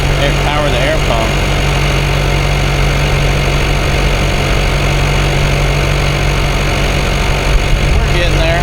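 A small air pump running off a dump trailer's battery inflates a tire, giving a loud, steady motor drone that continues unbroken throughout.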